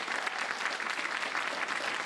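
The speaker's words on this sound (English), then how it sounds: "I'd like to give a big round of applause for the production crew here at Lantern City." Audience applause at a convention panel at Dragon*Con, a dense, even wash of many hands clapping, somewhat distant and steady throughout with no voices.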